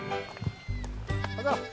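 Goats, Boer breed, bleat on a steep mountainside, with a couple of loud, close, wavering calls overlapping in quick succession.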